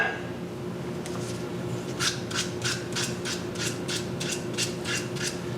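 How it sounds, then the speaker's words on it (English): Skew chisel paring rough wood on the end of a carved wooden scoop, a series of about a dozen short, crisp scraping strokes in a steady rhythm over a low background hum, close and fairly quiet. "I can actually use my skew chisel to part away some of that rough"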